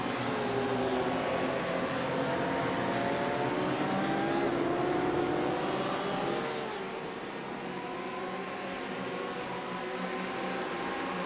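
Several sim racing cars from a racing video game at Barber Motorsports Park, the race leaders passing a struggling back marker, engines droning and shifting pitch together at steady loudness.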